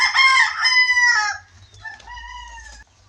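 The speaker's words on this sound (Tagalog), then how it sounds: "meron pa dito mga manok" Rooster crowing among chickens on an island: one loud, close crow with a stretched harmonic call, then a softer, trailing second call, with no talk over it.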